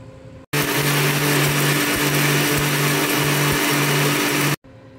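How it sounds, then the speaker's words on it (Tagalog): A blender runs steadily at high speed, grinding cooled homemade chili peppers into powder; a loud, continuous whirring motor hum with a faint rhythmic pulsing, starting abruptly and cutting off after about four seconds, with no talking. "I-blender na po natin."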